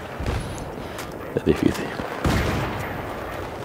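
Battlefield 3 gunfire crackles in bursts through a large cooperative map, with several sharp shots mixed into steady game noise while someone speaks briefly over it.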